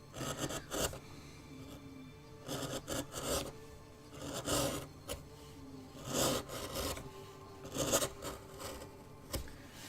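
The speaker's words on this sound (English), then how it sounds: "But it is that sort of sound is one of the ones I really enjoy hearing when I'm carving." Wood being carved with a rasp along the grain: repeated rough scraping strokes in irregular bursts, close and moderately loud, with no talking.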